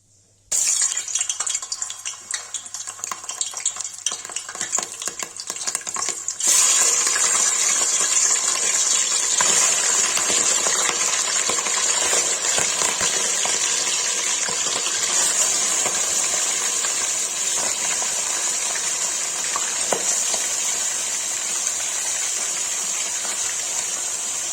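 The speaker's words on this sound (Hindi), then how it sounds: "गाइस मटन फ्राई के लिए रख दिया है" Mutton frying in hot oil, a dense, steady hiss that swells to full loudness a few seconds in and holds without pause, close up, with faint clinks and no speech.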